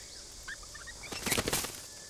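A female bird gives a few short, high chirps, then a burst of fluttering wingbeats as it takes off from its nest nearby in a forest.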